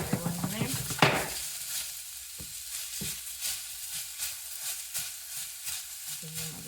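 Zucchini noodles frying in a pan for a seafood Alfredo, a steady soft sizzle with light stirring and tossing scrapes close by, the hiss running under occasional clinks.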